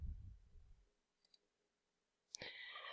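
A computer mouse clicking to save a file, a quiet lone click followed by a sharper click, with faint low murmur at the start and soft hiss afterward.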